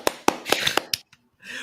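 A few people clap close by, about six sharp, uneven claps in a short burst that stop abruptly and give way to a brief pause.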